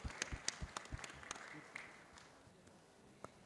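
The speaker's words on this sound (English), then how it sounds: "Please give a round of applause to our speakers here." Audience applause for the speakers at an eco-tourism week event, a burst of scattered claps and crowd noise that starts strong, then thins and fades into faint room noise.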